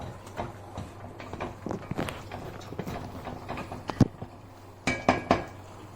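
Mutton rogan josh with salt stirred in a metal pot: a close series of irregular clinks, scrapes and knocks of a spoon against the pot, with a few sharper taps near the end.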